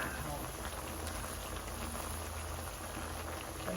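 Vegetables and crab simmer in coconut milk, a soft steady bubbling hiss heard faintly and evenly throughout.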